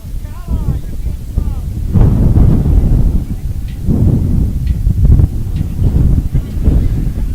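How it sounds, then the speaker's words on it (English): Wind blows hard across a seaside soccer field at Cape Henry during a girls' high school game, roaring into the microphone in heavy gusts, with faint voices and whistles in the background. "Windy today here at Cape Henry."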